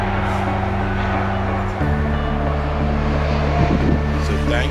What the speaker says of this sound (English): Sorry about all the traffic noise.